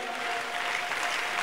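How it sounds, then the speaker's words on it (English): A congregation at a church conference claps together in a dense, even wash of applause, fairly soft and continuous throughout the short moment. "If you want to clap, put your hands together for Jesus."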